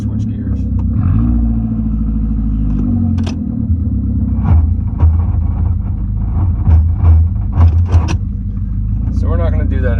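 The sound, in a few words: Toyota Corolla with failing automatic transmission switching gears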